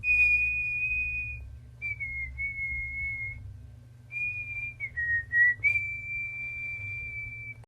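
A clear, steady whistle holds long tones with short gaps and a few slight pitch dips, over a low rumbling background hum.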